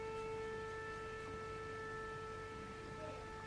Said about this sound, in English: Sorry if you can hear that horn, it's a train going by.